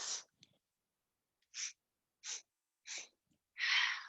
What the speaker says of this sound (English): Three more breaths.